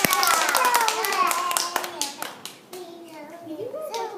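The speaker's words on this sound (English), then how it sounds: "Let's give him a big round of applause." Applause from a small group, dense clapping at first that thins out, with children's voices chattering over it.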